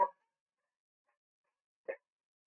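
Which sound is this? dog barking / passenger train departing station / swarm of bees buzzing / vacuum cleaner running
dog barking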